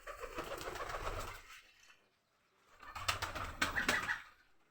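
Pigeons in a pigeon house at home give two bursts of low, soft cooing, close by, separated by a brief quiet gap.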